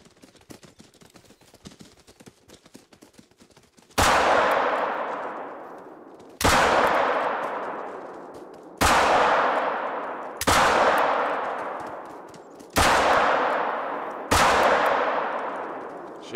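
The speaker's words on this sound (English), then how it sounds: "I dumped 6 rounds into one and it's still up and running." Rifle shots from the hunting video game Call of the Wild: six loud, sharp reports spaced about two seconds apart, each ringing out in a long decaying tail, following a few seconds of quiet rustling ambience.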